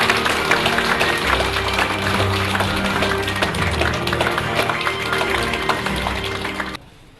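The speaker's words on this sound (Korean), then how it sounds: "큰 박수로 맞이해 주시기 바랍니다" Applause greets a mayoral candidate at a campaign office opening, steady crowd clapping over a low hum and background music, loud throughout before cutting off abruptly near the end.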